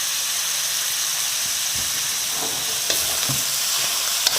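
Offal stir-fried with holy basil, sugar and soy sauce crackles and hisses steadily in a hot pan, with a few louder scrapes of stirring breaking through the dense sizzle.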